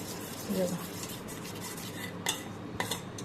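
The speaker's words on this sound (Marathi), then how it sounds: "मैदा याच्यामध्ये चांगला मिक्स करायचा असा चांगला मिक्स करून घ्यायचा मैदा" A spoon softly stirs flour into ghee in a bowl for crispy khari dough, with quiet, close scraping and a couple of faint clinks against the rim.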